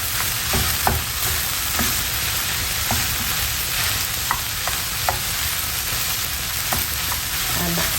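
Minced meat filling for won tons and yuk sung frying in a pan, a steady loud sizzle broken by regular scraping taps of a utensil breaking up the lumps, close up and with no talking.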